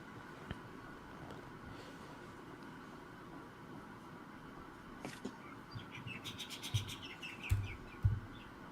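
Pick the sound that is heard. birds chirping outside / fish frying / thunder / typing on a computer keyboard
birds chirping outside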